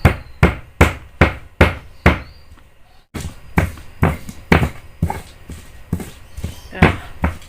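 Jengkol beans are pounded flat in a mortar for Betawi pecak jengkol, giving a close, loud series of about fourteen rhythmic thuds with a short pause partway through.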